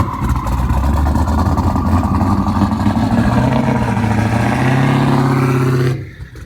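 A 363 turbo Fox Body car making a drag test pass at an NMRA event: loud, close engine roar rising steadily in pitch through the run, then cutting off abruptly near the end.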